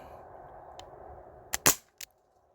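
An Umarex Brodax BB pistol running on an HPA line fires a few sharp, close pops in quick succession near the end, following a low steady hum, with a faint earlier click.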